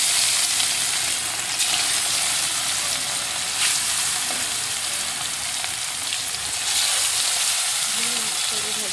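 Pieces of rohu fish fry in a pan with a strong, continuous sizzle that stays close and even throughout, with faint voices in the background.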